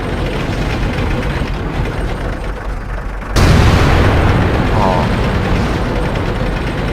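Artillery shells explode in a World of Tanks battle, a sudden loud boom rising out of a dense, steady roar of game noise that stays heavy afterward.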